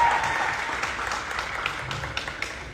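Applause at a Bhojpuri music stage show, a steady wash of crowd clapping at moderate distance, continuous throughout with no clear individual claps standing out.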